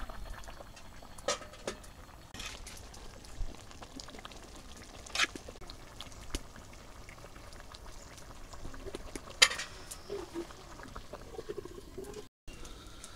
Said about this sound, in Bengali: মুসুরি ডাল, চাউল, আলু এগুলো একসাথে ফিরিয়ে খিচুড়ি রান্নতেছে সকালের জন্য